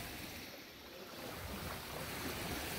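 Ocean surf washing onto a beach, a steady broad rushing roar with gentle swells and some wind, fairly faint and continuous without talk.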